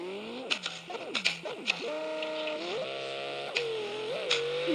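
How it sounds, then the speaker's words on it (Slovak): A car engine in a survival video game, a whining, rising and falling tone that revs up and down repeatedly, with several sharp clicks and knocks between revs and no talk. "Bože, ten zvuk toho auta."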